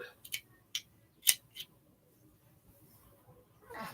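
Scissors snip through fabric for a sewing project, giving a few sharp, quiet cuts at irregular intervals in a near-silent room, with a soft rustle at the end.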